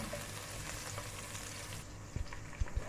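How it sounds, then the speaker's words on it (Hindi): Chopped garlic and green chilli fry in a pan with a steady close sizzle, and a few soft knocks of stirring come near the end. "1 मिनट के फ्राई करें ताकि लहसुन का जो स्मेल है ना वो ख़त्म हो जाए।"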